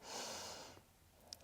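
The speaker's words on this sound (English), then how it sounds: "breathing in." A steady inhaled breath during a slow yoga flow, a soft airy rush lasting under a second that fades into quiet, close and gentle.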